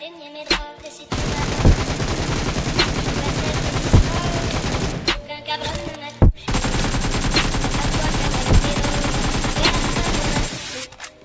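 Automatic rifle fire from an M762 and an AKM in the BGMI mobile shooter: two long, loud, rapid bursts of hipfire, each running several seconds, with a brief gap between them and scattered single shots around the edges.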